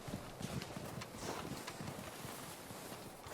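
A horse gallops in Red Dead Redemption 2 during a winter endurance race, rapid hoofbeats drumming steadily under wind-like noise, fairly faint and close, with no talking.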